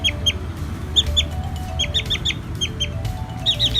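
Chickens packed together in a transfer box give repeated short, high clucks and chirps in quick bursts over a steady low rumble of background noise.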